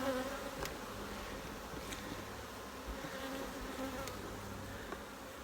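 Disturbed honeybees buzz around an open hive during a December honey harvest, a steady, fairly quiet swarm drone with individual bees flying close past now and then.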